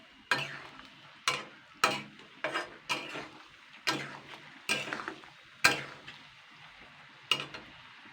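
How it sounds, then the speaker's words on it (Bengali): Elephant apple pickle stirred with a spatula through thickening sugar syrup in a pan, giving a steady run of distinct scraping strokes about once a second, close and fairly loud, with no voices. "তো এইভাবে কিন্তু খুন্তিটা দিয়ে কিন্তু চালতেটা এইভাবে অনবরত নাড়তে হবে"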